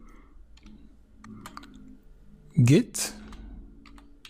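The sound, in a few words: typing a git command on a computer keyboard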